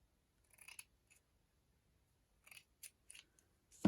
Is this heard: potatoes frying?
no